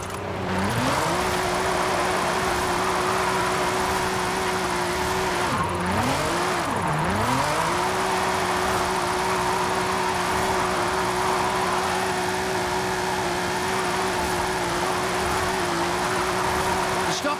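A Nissan GT-R with its VR38DETT twin-turbo engine, set up as a drift build in Forza Horizon 5, holds a steady loud drone with a brief rev dip and recovery near the middle, tires hissing throughout.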